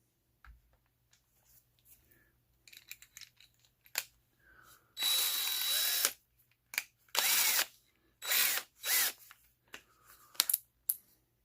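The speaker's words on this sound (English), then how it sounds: "I'm going to start off with a smaller drill, just to drill a pilot hole" A power drill drilling small pilot holes for mounting a monitor in a pinball cabinet backbox whirs in several short bursts, a longer run then quick pulses, with small clicks and handling noises in between, fairly close.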